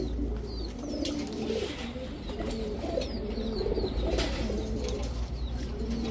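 Several pigeons coo in soft, overlapping murmurs over a steady background hum, with occasional faint chirps.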